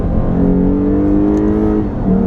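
A loud, close Lexus RC 350 F Sport engine holds a steady high-revving drone under full-throttle acceleration on a race track, its pitch shifting slightly near the end.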